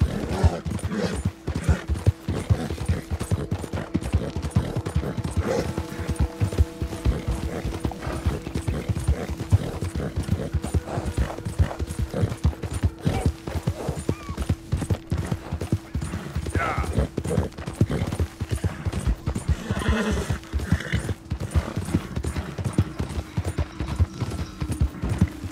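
Rapid, rhythmic hoofbeats of a galloping horse in Red Dead Redemption 2 pound on steadily throughout, loud and close, with a sustained tonal hum beneath and occasional faint neigh-like sounds.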